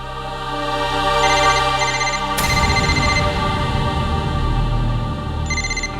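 A telephone rings with a repeating electronic ringtone pattern, loud and alone, over a steady background hum in a home.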